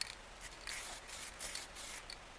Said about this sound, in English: It comes out like 3 different shades of blue as you're spraying.